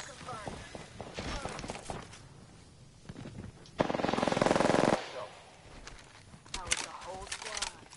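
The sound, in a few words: gunfire in the video game Apex Legends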